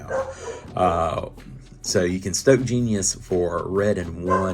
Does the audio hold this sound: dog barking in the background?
yes